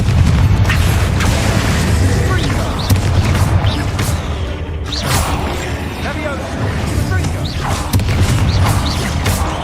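The Confringo fire spell explodes in the Hogwarts Legacy video game: a loud, continuous barrage of booming blasts and crackling debris that fills the whole stretch.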